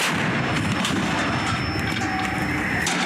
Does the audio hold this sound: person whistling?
no